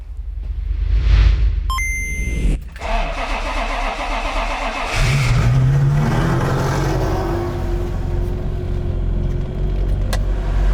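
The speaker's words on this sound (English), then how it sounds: "So I'm going to warm up 3 cars and we'll do some exhaust noises." A performance car engine, one of a Porsche 993, Ferrari 355 or Porsche GT3 in a garage, cranks with a starter whine and catches, then settles into a loud, rumbling, uneven warm-up idle with slight revving, close by.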